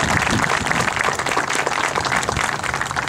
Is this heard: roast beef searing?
no